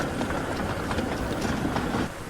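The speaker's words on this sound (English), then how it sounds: "he saw James taking Bruno out of the siding and away on James's train" A cartoon steam engine train rumbles along the track in a steady, close, continuous clatter, moving away from a siding with no talking.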